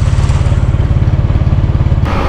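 A motorcycle engine idles as it warms up, a steady close-up chugging throb with rhythmic low pulses that shifts slightly near the end.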